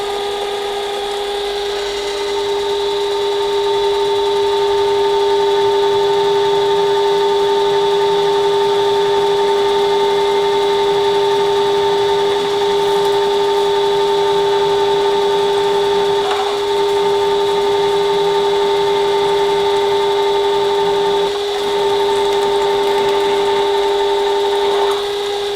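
A Yankee reamer cutting drilled holes out to size on a Wright roller kit part, giving a steady, continuous machine whine with strong sustained tones throughout, loud and close with no talking.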